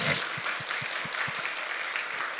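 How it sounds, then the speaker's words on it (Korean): Audience applause fills a church spring revival meeting, a steady, dense wash of clapping with a few heavier low thumps early on, sustained evenly throughout without voices on top. "박수를 한번."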